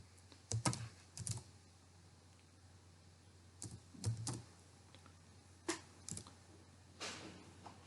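Quiet clicking of a computer keyboard in short clusters of keystrokes with pauses between them, close by over a faint steady hum.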